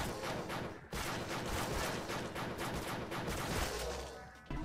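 Blade gun weapon firing in the game Crimsonland, a dense, continuous barrage of rapid gunfire-like bursts filling the whole stretch with one brief gap, loud and close, no talking.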